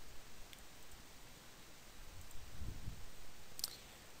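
A computer mouse clicking during a software tutorial for a bulk importer: a few faint, sharp clicks spaced about a second or more apart over low, steady room noise.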